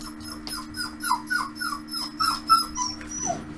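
A dog whimpers and whines in a rhythmic series of high, plaintive cries over a steady electronic hum, a distress sound from the video game Metroid Prime 2: Echoes.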